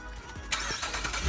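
A BMW car engine starts up quietly with a soft crank and then settles into a low, steady idle close by, with no talk.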